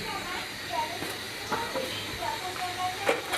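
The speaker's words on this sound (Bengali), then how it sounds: "শাকটা সিদ্ধ হচ্ছে, আমি সাথে আলু দিয়েছি" Greens and potatoes boil in a pot on a kitchen stove at night, giving a steady hissing bubble with scattered pops and small clinks, and a voice talks faintly underneath.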